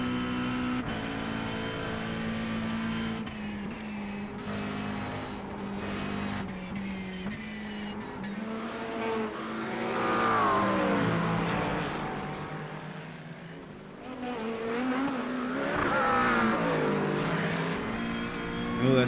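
A Corvette and a BMW race at speed in a realistic VR racing game on the Nürburgring, engines revving and droning continuously with rising and falling pitch as they shift and pass, fairly loud with no talk.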